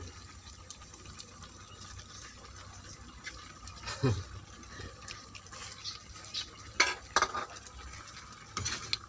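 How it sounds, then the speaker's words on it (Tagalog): Malunggay leaves being stirred into a coconut milk vegetable stew, with soft, intermittent utensil scrapes and clinks against the pot, a louder knock near the middle, over a quiet background and no speech. "Dahon ng malunggay, halo-haloin lang."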